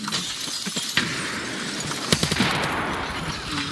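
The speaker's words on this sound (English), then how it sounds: "Oh, I'm getting shot from the windows!" Video game shootout with gunfire through building windows: sharp cracking shots and shattering bursts, a scattered few near the start and a tighter cluster midway, loud against a steady noisy backdrop.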